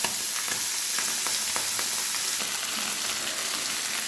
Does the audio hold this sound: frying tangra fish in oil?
yes